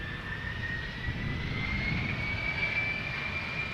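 An easyJet airliner takes off at Amsterdam Schiphol, giving a continuous, fairly loud jet engine roar with a rising whine running through it and no talking.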